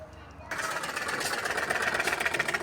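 A sewing machine stitches a printed suit with plain salwar, starting abruptly after a brief quieter lead-in, then running as a loud, steady mechanical rattle close by for the rest of the clip.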